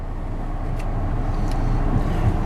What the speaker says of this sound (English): If I ever get out of here with freaking cars, one after the other, after the other, after the other